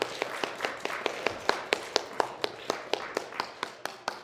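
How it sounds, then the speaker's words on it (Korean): A church congregation at a Sunday Easter service claps in welcome, a modest group giving a few seconds of steady, fairly close clapping with distinct individual claps. "우리 박수로 환영하겠습니다."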